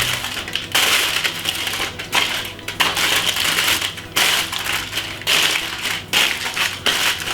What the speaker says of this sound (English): we're going to foil it like this